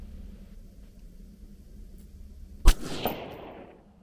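A single sharp, loud rifle shot from a 22 DPC wildcat AR-15 cracks out about two-thirds through, followed by a short decaying echo over a low background rumble.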